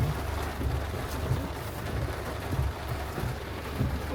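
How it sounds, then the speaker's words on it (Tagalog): Heavy rain pours steadily at a campsite in Lipa, Batangas, a dense, even hiss of drops on surfaces that holds constant throughout without pause and with no talking. "Tingnan nyo, umulan na naman. Ayan o. Lakas ng ulan."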